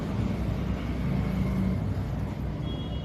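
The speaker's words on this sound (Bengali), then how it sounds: "শুনতে পাচ্ছ গাড়ির আওয়াজ?" Car traffic on a nearby road gives a steady, loud rumble that stays even throughout, with no voices over it.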